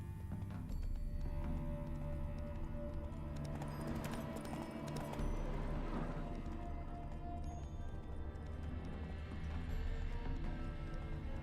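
Roach, Geralt's horse in the video game The Witcher 3, clip-clops along at a steady trotting rhythm, close and clear under the game's continuous music.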